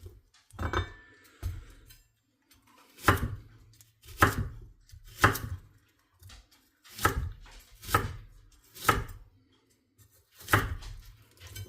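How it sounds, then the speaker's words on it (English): Knife chopping onions into large chunks on a board for turkey soup, about a dozen sharp, close thuds in irregular bursts with short pauses between. "gonna do the onions a little bit different this time and make kind of bigger, chunkier onions"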